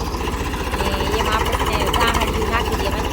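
A farm tractor engine runs nearby during groundnut harvesting in a field, its rapid, even low thumping and clatter continuing throughout while people talk over it.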